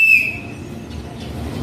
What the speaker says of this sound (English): If I whistle once, it means you are free to roam around in a place like this.